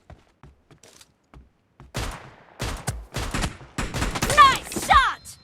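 Pistol gunfire from a shooting video game: sparse, faint shots at first, then louder rapid volleys and overlapping bursts, with a voice briefly heard among them.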